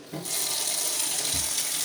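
A white plastic swivel kitchen faucet over a granite counter with a stainless steel sink runs water, starting with a short thud and then a steady, loud hiss of flow.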